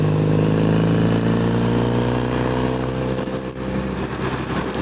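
Classic motorcycle engine revving hard and accelerating on a run along Loch Ness, a loud, steady harmonic roar that rises in pitch, close and continuous, with a brief dip near the end.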